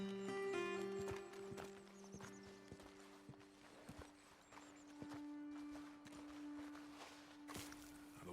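Horses clip-clopping in the video game Red Dead Redemption 2, a series of hoof strikes at a slow walking pace, fairly close, under soft ambient game music and tones.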